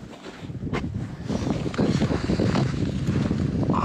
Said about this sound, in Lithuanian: Kažkaip vėjas žvarbus.